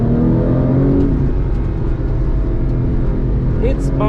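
Porsche 996 GT2 engine droning loudly and steadily while driving through tight corners, a dense continuous in-car roar with a brief rising whine near the end; a voice talks over it.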